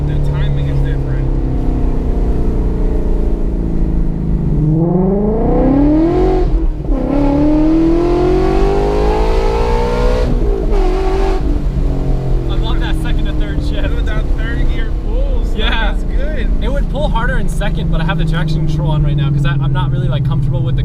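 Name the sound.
V8 car engine revving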